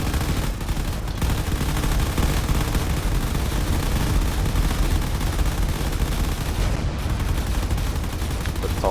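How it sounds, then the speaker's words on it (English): Turrets in the space game Drone Wars fire without pause, making a dense, loud, continuous stream of shots. The barrage blurs into a steady roar of gunfire, and there is no talk. "these other turrets are firing away and slowly taking them apart"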